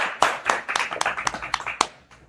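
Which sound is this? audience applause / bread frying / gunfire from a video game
audience applause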